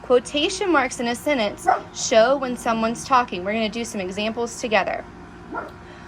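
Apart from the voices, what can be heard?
puppy barking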